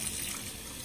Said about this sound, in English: your first rinse needs to be cool water